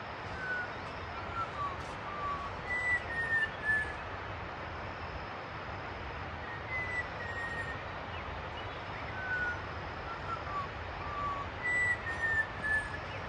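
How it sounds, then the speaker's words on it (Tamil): Birds give whistle-like calls in a morning forest near a trekking shed in a Valparai waterfall valley, short chirps recurring through steady broadband background noise, fairly distant. "காலையில் பேர்ட்ஸ் பாடுதுங்க விசில் மாதிரி."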